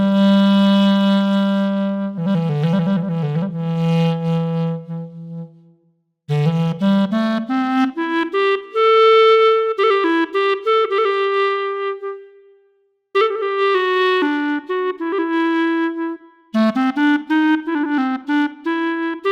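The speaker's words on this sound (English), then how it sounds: "Here's the sound of the clarinet from the VL70M." A Yamaha VL70M physical-modeling synth plays a clarinet voice from a wind controller. Bright, reedy sustained notes form several legato melodic phrases with smooth pitch bends, separated by short silent breaths.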